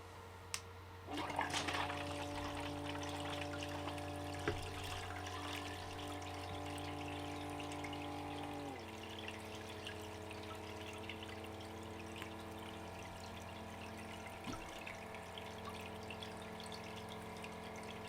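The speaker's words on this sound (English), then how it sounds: "Let's fire up this sluice." A pump starts up and runs steadily, feeding water through a gold sluice carrying fine, muddy paydirt. It gives a constant mechanical hum with a shift in pitch partway through and faint rushing water underneath.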